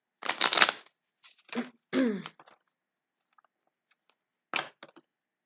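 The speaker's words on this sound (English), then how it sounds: "These cards are a little bit hard to shuffle because I use them a lot." Well-used playing cards are shuffled in a few short riffling bursts separated by pauses, close and crisp against a quiet background.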